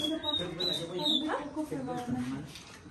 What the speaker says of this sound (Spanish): Ay, un pajarito.